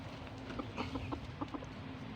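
A Thai gamecock rooster clucks in a quick series of soft, close notes over a steady low background hum.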